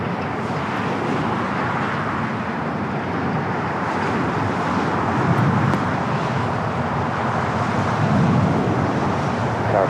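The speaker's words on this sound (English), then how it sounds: "EVA Flight 5 heading back to Taipei, taking off there on the north side." An EVA Air jet taking off from the north side runway at LAX, a steady broad roar that swells slightly, distant but filling the air, with no talking.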